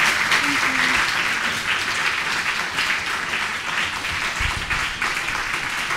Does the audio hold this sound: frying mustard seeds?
no